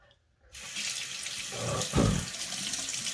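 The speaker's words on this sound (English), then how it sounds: "wash your hand for 5-10 seconds, turn it off, you hear it glugging" A household tap runs steadily into a sink after a quiet start, and a low gurgling glug from the drain rises briefly under the rushing water.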